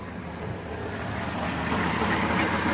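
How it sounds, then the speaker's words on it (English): A van's engine idles steadily at moderate distance, a low continuous rumble with no talk over it, holding even throughout. "So with the engine running,"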